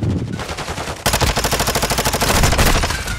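Rapid automatic gunfire from a video game rattles in a steady, loud, fast rhythm of shots, nearly alone without talk.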